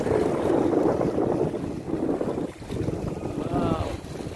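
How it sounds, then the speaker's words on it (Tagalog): Strong waves crash at the San Nicolas baywalk in Batangas, a broad, surging roar under heavy wind buffeting the microphone, with a voice briefly audible. "Ang lakas ng hampas ng mga alon"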